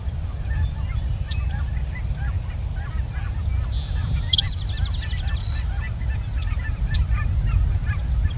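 A Savannah Sparrow sings a brief high song of thin chips running into a buzzy trill, fairly faint over a steady low outdoor rumble.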